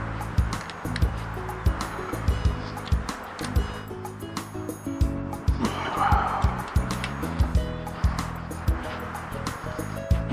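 A Mini Mamba 40cc dirt bike's tiny engine on a stiff throttle cable revs unevenly, close by, with rapid clattering pops and surging drone, and faint voices in the background.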